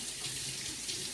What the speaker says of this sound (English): I'm just gonna give my hands a quick rinse.